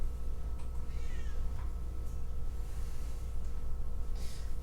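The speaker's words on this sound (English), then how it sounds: "Come on, kitten." A house cat meows repeatedly near the microphone during a home yoga session, several short calls rising over a steady low hum, with the loudest cry near the end.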